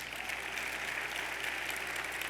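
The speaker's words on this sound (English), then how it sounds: "I'm not sure the middle schoolers would be clapping right now, but it's for their own good." Applause from the audience at a mayor's State of the City address, a steady, dense wash of clapping that fills the whole moment without a break.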